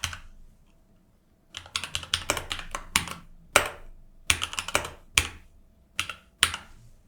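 Fast bursts of typing on a computer keyboard, clattering keystrokes in quick clusters separated by short pauses, close and clear with no talk.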